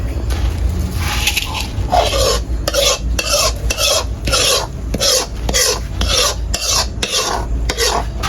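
Hot syrup is stirred into puffed rice by hand, a close, rhythmic scraping and crunching repeated in quick strokes with a faint sizzle beneath.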